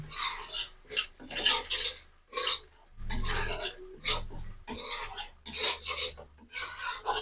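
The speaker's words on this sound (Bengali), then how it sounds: "আবারও মশলাটাকে ভালো করে কষিয়ে নেব।" Spices and chili powder are stir-fried in a pan for a vegetarian raw banana and chana dal dish, with a spatula scraping in about a dozen rough, rhythmic strokes, close and fairly loud, with no talking.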